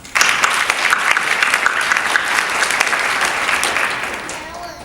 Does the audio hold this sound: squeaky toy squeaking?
no